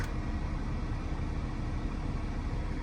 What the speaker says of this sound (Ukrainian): Автомобіль заведений без будь-яких помилок